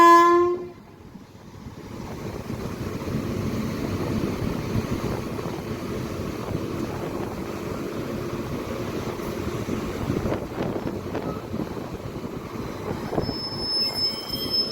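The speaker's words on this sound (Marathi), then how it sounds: "नरसापूर सुपरफास्ट एक्सप्रेस तपोवन एक्सप्रेसला आपल्या ओव्हरटेक करून पुढे जात आहे" The Narsapur superfast express passes through Jalna station in the rain. A brief horn opens, then comes a continuous close rumble with rattling wheels and squeal as the train runs by.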